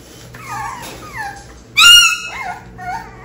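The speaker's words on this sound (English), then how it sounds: "Why are you growling at her," A dog whimpers and yips in high, whiny cries, then lets out one sharp, louder yelp, with soft whines continuing after it, close to the microphone.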